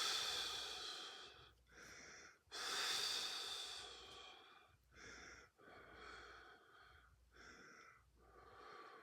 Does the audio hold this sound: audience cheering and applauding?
no